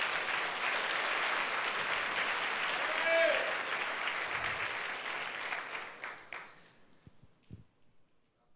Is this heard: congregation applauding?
yes